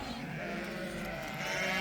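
A flock of lambs bleats together, overlapping wavering cries that run continuously and grow slightly louder toward the end, close by and dense with a crowd of sheep.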